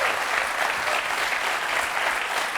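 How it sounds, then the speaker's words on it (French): Studio audience clapping loudly and continuously, dense applause from a close crowd that holds steady throughout with no talking. "on vous applaudit très fort"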